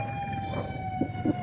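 A fire truck siren sounds as a steady high wail carrying over street noise, with a couple of short low bumps of traffic near the end, moderately loud and a little distant.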